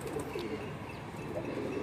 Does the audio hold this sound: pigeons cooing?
yes